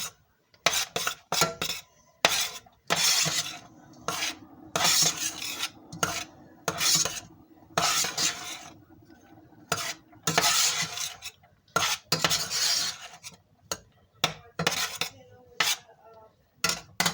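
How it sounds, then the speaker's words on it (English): Utensil scraping and rasping around a pot as a seitan Mongolian beefless broth with tofu, sweet potato and pumpkin is stirred, in repeated irregular strokes with short pauses, close and fairly loud, alone without talk. "Stir it very well."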